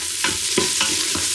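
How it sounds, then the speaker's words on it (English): Onions sauté in a Ninja Foodi cooking pot, a close, steady sizzle broken by four rhythmic scraping stirs of a utensil against the pot over about a second and a half. "Hear the sizzle."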